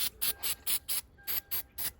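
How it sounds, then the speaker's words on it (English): An aerosol can of lithium grease sprayed onto a Lexus GX470 part makes eight short, close hissing bursts in a steady rhythm, each lasting a fraction of a second and separated by brief pauses. "definitely you need to spray some type of grease"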